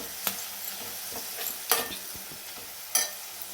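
Onions and garlic paste frying in a pan until brown, for a meal maker curry. A steady low sizzle with a few sharp scraping stir strokes, close up and with no talk.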